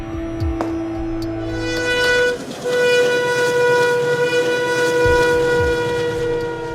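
Train rolling along a railway track beside a river, a steady rumble with sustained horn-like tones and a brief dip midway, continuous and fairly close, no talk.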